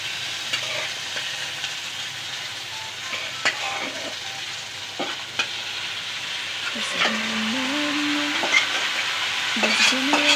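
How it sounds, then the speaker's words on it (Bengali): Beetroot, potato and malabar spinach fry and get stirred in a pan, a soft steady sizzle with scattered scraping clicks of the spatula, faint at first and building louder toward the end. "বিট আলু পুঁই শাক দিয়ে ভাজবে"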